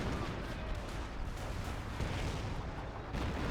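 Artillery shells an enemy base in the Company of Heroes strategy game, a dense, continuous barrage of booms and gunfire rumbling at steady loudness.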